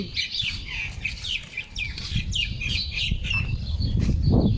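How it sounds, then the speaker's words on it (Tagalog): A dense chorus of many birds chirping and tweeting at once, fairly close, over a low rumbling background. "daming ibon"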